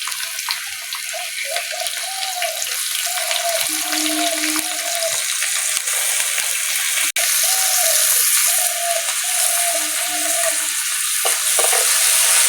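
Chopped onions and green chilies frying in oil in a pan, a steady bright sizzle throughout with intermittent scraping and clinking as the spatula stirs, close and alone with no talk.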